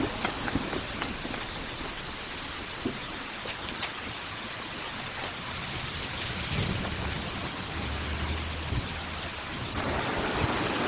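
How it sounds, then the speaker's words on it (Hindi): Heavy rain pours steadily over Seoul with rolling thunder, a dense continuous hiss that keeps a constant level throughout, with low rumbles building in the later seconds. "सियोल का मौसम देख के ऐसा लगता है कि ये बारिश थमने नहीं वाली।"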